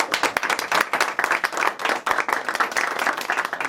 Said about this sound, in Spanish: para el cual pido un aplauso